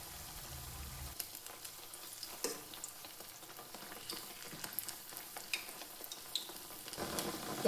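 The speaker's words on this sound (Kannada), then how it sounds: "ಎಲ್ಲನೂ ಇದೇ ರೀತಿಯಾಗಿ ನೀಟಾಗಿ ಫ್ರೈ ಮಾಡ್ಕೊಳ್ಳೋಣ" Spinach (palak) pakoda crackle as they fry in hot oil, giving a soft, steady sizzle with scattered pops and bubbling throughout and no voices.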